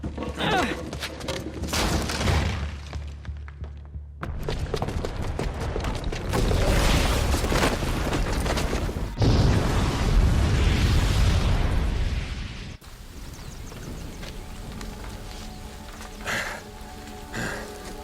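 A bomb detonates in Horizon Zero Dawn, a sustained roaring blast with crackling debris and rumbling that swells loud and dense, then drops to a lower rushing wash and scattered rattling.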